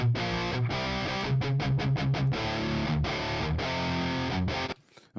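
An electric guitar played through heavy saturation distortion, thick sustained chords with rhythmic stops and restarts, loud and up front, ending abruptly.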